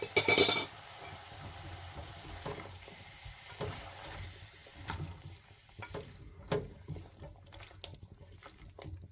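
Dragon chicken with colourful vegetables, tomato paste and sauces is stirred in a pan, giving soft sizzling and a scattering of spatula scrapes and clinks, fairly quiet throughout.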